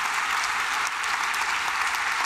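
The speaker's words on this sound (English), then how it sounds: "That's a better clap than at the start" Lecture audience applauding warmly, a dense, steady wash of many hands clapping that holds at full strength throughout.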